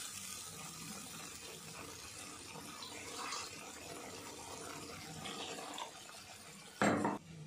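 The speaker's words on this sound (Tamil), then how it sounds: "இப்போ நமக்கு எவ்வளோ தண்ணி தேவையோ அந்த தண்ணி வந்து இதில் ஊற்றிக்கலாம்." Water is poured into a pan of spicy tamarind curry (kaara kulambu) in a home kitchen, a soft steady trickle and hiss with a short louder splash near the end.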